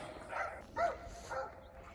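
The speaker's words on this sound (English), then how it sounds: "the dogs know that I am here, and they're barking like they always do when I'm walking over to see them" Dogs at a breeder's kennel give a few short barks in separate bursts, a louder one in the middle, heard at moderate distance over low background noise with no talking.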